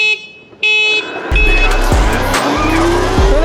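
Mini electric dirt bikes race each other, among them a Talaria Sting MX4, a Rawr Mini, a Tuttio and a Sur-Ron with a BAC 4000 controller. High electric motor whines rise and fall as the bikes speed past, loud and close, with rattling and scuffing.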